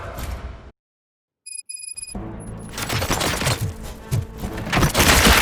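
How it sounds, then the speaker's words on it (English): After a sudden cut to silence and a few electronic beeps, a rapid burst of gunfire erupts in RoboCop: Rogue City and continues loudly to the end. "Gunshots? What's going on?"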